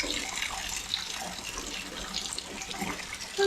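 Coolant draining from the engine of a 1968 G20 van into a bucket, a steady close splashing pour of liquid throughout.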